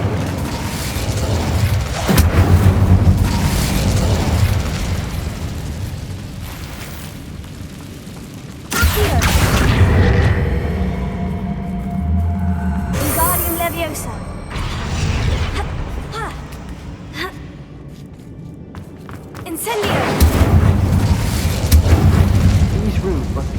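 Fire spell cast in Hogwarts Legacy, heard as booming bursts and eruptive whooshes that repeat several times over game machinery noise, with talk in places.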